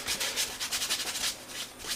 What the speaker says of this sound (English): piece of cotton for just removing a lot of the paint off.